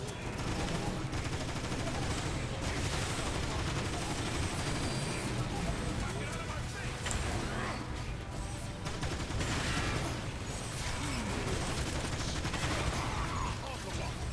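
Rapid gunfire from the video game Transformers: War for Cybertron, dense sustained bursts of weapon fire and mechanical clatter running continuously at steady loudness throughout, with faint game effects layered in.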